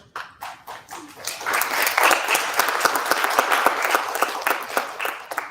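Audience applause for a panel at a summit breakfast, starting with a few scattered claps that quickly build into dense, sustained clapping from the crowd.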